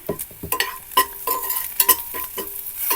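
Onions with salt and turmeric stirred in a pan for a beetroot curry, giving soft scraping stirs and light sizzling taps in short uneven bursts, close up and without talk.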